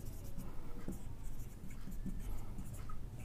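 Pen writing on paper while an algebra problem is worked out, a steady soft scratching with small taps, close and faint over a constant background hiss, with no talk.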